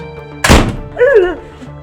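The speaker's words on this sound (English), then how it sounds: "Who is banging that door?" A single heavy thunk of a fist or object striking a door, close and loud, followed by a brief muffled voice fragment and room hum in an apartment setting.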